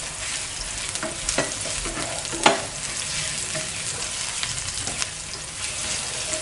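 Garlic sizzles steadily in a hot pan while being stirred, a continuous close frying hiss with light scrapes and one sharper clink of the utensil against the pan.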